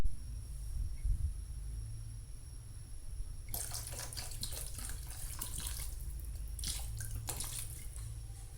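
White wine poured into a pot of Portuguese-style duck rice, a soft liquid splash and trickle that runs steadily for several seconds after a quiet start, close by, with no talk.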